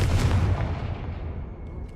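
A Confringo fire spell in Hogwarts Legacy lands as a heavy, booming blast. It is followed by a rumbling roar that fades out over about two seconds, with no voices.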